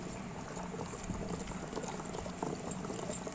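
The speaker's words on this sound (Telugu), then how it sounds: "తెల్లగడ్డలు వేసి ఎనుపుతున్నాను" Garlic cloves frying in a pan for gonggura pachadi, a steady soft crackling bubble of hot oil throughout, faint and close, with no talking.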